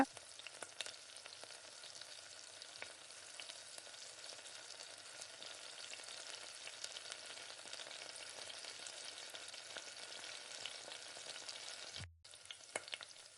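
Pakoda batter deep fries in oil, a continuous soft hiss and bubbling at low volume that holds steady and briefly cuts out near the end.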